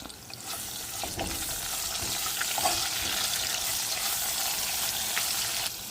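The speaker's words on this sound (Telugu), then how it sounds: "ఇది ఎక్కువ ఫ్రై అవ్వని అవసరం లేదు, జస్ట్ పచ్చి వాసన వెళ్ళే వరకు అలా ఆయిల్లో ఇలా చేసుకుంటే చాలు" Peppercorns and chopped garlic frying in oil in a pan, a continuous soft sizzle with occasional stirring scrapes, steady and close but fairly quiet.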